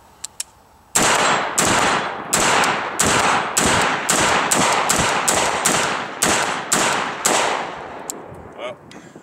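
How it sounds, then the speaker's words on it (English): A rifle fires live ammunition during barrel break-in, with about a dozen loud, close gunshots in a steady, evenly spaced rhythm, each ringing briefly before the next. "load up some ammunition, take it, fire around"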